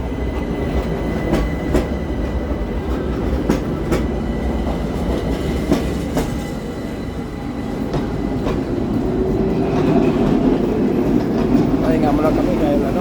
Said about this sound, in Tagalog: Kita nyo, may tram, may daan na tram, parang train.